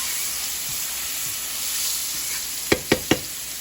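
Garlic and spaghetti squash fry in a pan with a soft continuous sizzle, then three sharp knocks of a utensil against the pan close together near the end.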